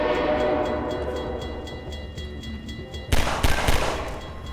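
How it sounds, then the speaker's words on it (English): A train rumbling past on the tracks in the Half-Life 2 canal route, a steady low rolling drone that breaks into sharp, loud metallic clatters near the end. "And we are hiding from this train right here, because if you are on the train tracks, then you are dead."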